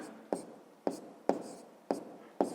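Pen writing down the answer to a sixth-grade math exercise: five crisp, evenly spaced tapping strokes with light scratching between, close and quiet, no voices.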